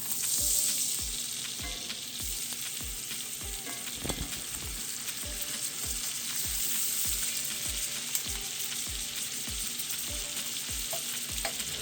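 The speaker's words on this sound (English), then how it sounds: "So I sear this for about 4 minutes on each side." A thin steak searing in a hot pan gives a loud, steady sizzle and crackle, with regular spatula scrapes or taps recurring about every half second close by.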